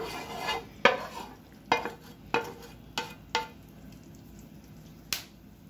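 Hot dry fruit chikki mixture spread onto a greased kitchen platform, giving a series of sharp scraping and tapping clacks, about six spaced strikes over a quiet background.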